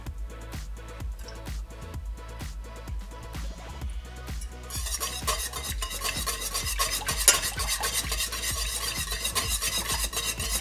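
A whisk beats rapidly against a bowl as butter pieces are worked into warm lemon cream, a fast regular clatter of strokes that grows busier and louder in the second half.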